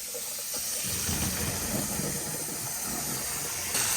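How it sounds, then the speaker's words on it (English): Boiled potatoes poured off into a drain, a steady rushing splash of hot water with a steamy hiss that swells from about the first half second and runs continuously to the end, close and fairly loud. "We're going to go ahead and pull these off and drain them"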